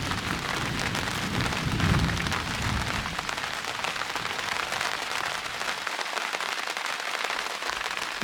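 Steady rain patters on a moored cruising boat in the San Juan Islands, a dense even hiss of drops drumming on deck and cabin roof, with one brief heavier rumble near the start and no voices.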